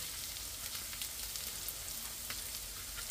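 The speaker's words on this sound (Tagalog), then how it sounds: "Then, sunod natin ang bawang. Gisa lang natin ang bahagya." Garlic sautés gently in a pan while a home cook prepares a Filipino chicken lumpianada filling, giving a steady, soft, even sizzle with faint crackles and no talk.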